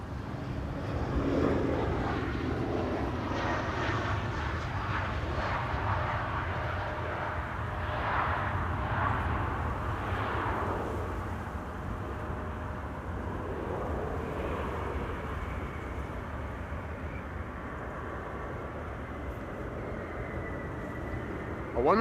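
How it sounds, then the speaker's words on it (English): An Embraer jet airliner landing on runway 27 at Amsterdam Schiphol Airport, a broad engine roar at moderate distance that swells and then slowly fades over about twenty seconds, with no talk. "one final Embraer landing on runway 27"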